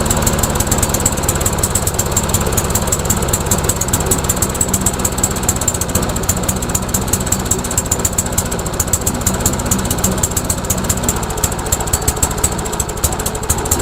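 A rebuilt lawnmower engine runs at a steady idle, a loud close rapid chugging with a fast, even firing rhythm that continues throughout, with no voices.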